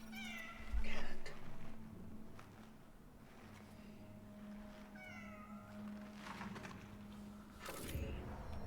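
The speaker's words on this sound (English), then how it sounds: "Cat." A cat meows repeatedly in the video game Cronos: The New Dawn, several drawn-out, rising and falling cries spaced across the span over quiet ambient hum, with brief thumps and a faint voice.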